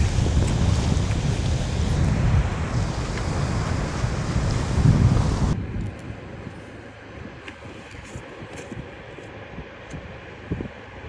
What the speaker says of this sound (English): It really is quite blustery out here.